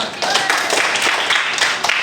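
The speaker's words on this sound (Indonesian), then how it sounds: "Tepuk tangan dong buat kita semua." A classroom of students claps together during a language lesson, a short burst of uneven hand claps up close with some voices mixed in.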